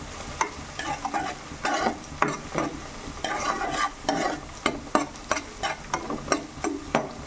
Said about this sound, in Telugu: ఫస్ట్ ఉల్లిపాయ పచ్చిమిరకాయలు అయితే కొంచెం ఫ్రై చేసుకుంటున్నానండి